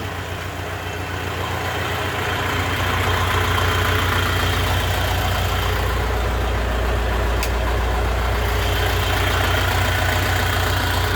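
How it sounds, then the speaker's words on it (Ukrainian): A large diesel engine idles steadily, a deep continuous rumble with a low rhythmic throb, close and constant throughout. "Зараз виключаю двигун."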